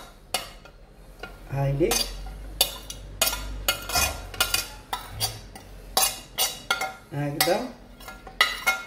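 Metal utensils clink and scrape in a pot as onion and spices go into oil for a chicken and artichoke dish, with irregular clattering taps and stirring while someone talks.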